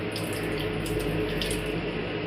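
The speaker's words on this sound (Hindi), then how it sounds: "यहाँ पे भी देख सकते हैं पानी ऑन ही है।" Water runs steadily from a tap into the wash basin of a train toilet, a continuous close hiss and splash with no pauses, over the low rumble of the moving train.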